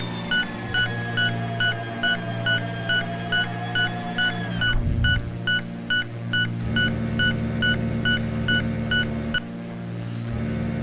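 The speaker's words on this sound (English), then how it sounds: "So gears going up. Gear up." Landing gear retracting on an aircraft in the Prepar3D flight simulator: a steady mechanical whine that drops away partway through, under a continuous engine drone and a fast, repeating beeping alert, with no talk.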